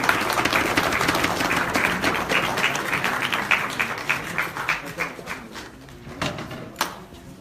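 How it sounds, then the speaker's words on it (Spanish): Audience applause at the close of a debate exhibition, a dense steady round of clapping that thins into scattered individual claps and fades toward the end. "un fuerte aplauso para todos"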